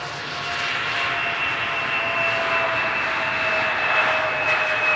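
An airliner landing on runway 18R at Amsterdam Schiphol at fairly high speed without thrust reversers, a steady distant jet roar with a faint whine that swells slightly, no voices.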